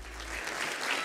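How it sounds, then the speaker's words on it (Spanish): Brief burst of audience applause for a male contestant at the Miss International Grand Latina 2021 pageant, a steady dense clapping filling the moment. "Un fuerte aplauso para todos los caballeros esta noche"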